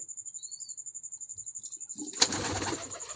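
Zeera pigeons cooing in a steady, rhythmic pulse close by, with a faint high tone running throughout and a burst of broadband rustling noise joining in the last second.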